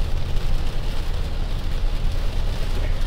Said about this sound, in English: when it rains here like this